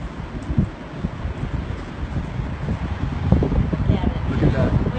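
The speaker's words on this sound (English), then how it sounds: "Feel the wind?" Strong tornado wind buffets the microphone with a steady, rough roar and rustling, rising slightly toward the end, while people talk excitedly underneath.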